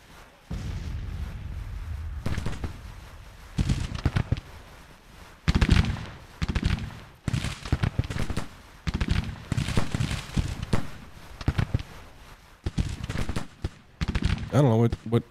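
Musket volleys and artillery fire crackle and boom in the Civil War strategy game Grand Tactician, coming in irregular loud bursts of rapid popping shots separated by brief quieter gaps.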